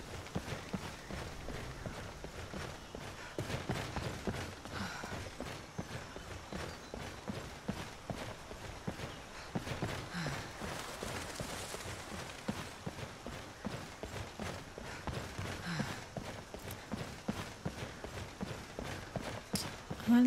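Horse hooves clip-clop steadily in the video game Skyrim, a continuous run of quick hoof beats mixed into busy game sound throughout, with no talk over them.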